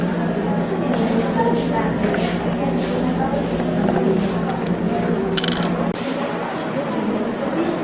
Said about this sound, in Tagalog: Kung gusto nyo itong tanggalin, dapat ay ikutin nyo ang torque screwdriver ng counterclockwise.